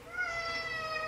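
A cat lets out a single drawn-out meow indoors, clear and fairly close, rising then holding steady for about a second with no talk.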